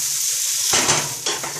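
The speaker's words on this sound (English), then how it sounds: "just let them fry off for a few minutes" A pan full of chilies sizzles loudly and close, the hiss swelling as they hit hot oil and holding steady with a brief stir near the end.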